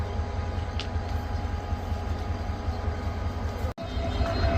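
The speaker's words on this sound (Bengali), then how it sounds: "বুড়িমারি এক্সপ্রেস ট্রেনটি জয়দেবপুর জাংশনে 2 নম্বর লাইন দিয়ে প্রপাত যাবে" The Burimari Express runs through Joydebpur Junction on line 2 on a foggy day, making a steady, loud rolling rumble that drops out for a moment before carrying on.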